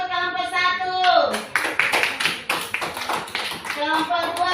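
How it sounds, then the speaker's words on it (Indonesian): Children in a classroom clap for group 1, a burst of quick, loose handclaps following a teacher's voice, with talk before and after. "Ayo tepuk tangan untuk kelompok 1"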